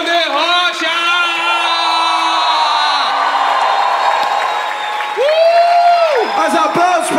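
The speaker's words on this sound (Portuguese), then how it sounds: "Mais aplausos para o Bominão da Júlia, senhoras e senhores" Theatre audience at a comedy show in Theatro da Paz, steady applause and cheering filling the room, with a loud amplified voice and whooping over it.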